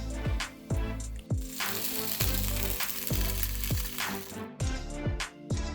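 Cauliflower veggie bites frying in a pan sizzle steadily while pieces are set down one by one, giving a run of sharp clacks and taps over the continuous hiss.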